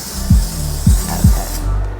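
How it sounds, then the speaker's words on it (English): Nonstick cooking spray hisses onto a pan in three short bursts, each with a faint clicking nozzle, close and fairly loud against a steady background hiss. "Now stick spray on the pan"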